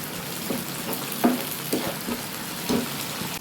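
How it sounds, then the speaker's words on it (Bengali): Garlic ginger paste sizzles and fries in a pan with browned onions for a Bengali clam curry, a steady quiet hiss broken by several stirring scrapes at a slow, even pace. "পেঁয়াজটা বেশ লালচে লালচে ভাজা হয়ে গেলে হয়ে এসছে, আমি এর মধ্যে রসুন আদা পেস্ট বাটা দিয়ে নেব।"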